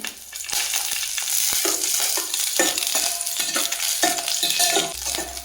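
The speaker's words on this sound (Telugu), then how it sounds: "వెల్లుల్లి, అల్లం, 2 పచ్చిమిరపకాయలు ఈ ఆయిల్లో ఫ్రై చేసుకోవాలి." Garlic, ginger and two green chillies frying in hot oil, a steady close sizzle broken by repeated clinks and scrapes of a spoon stirring against the pan.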